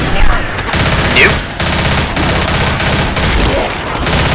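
Sustained rapid gunfire in the zombie shooter Left 4 Dead, loud and dense bursts of automatic weapon fire running almost continuously with brief gaps, with faint voices mixed underneath.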